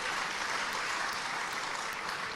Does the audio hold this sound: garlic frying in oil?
no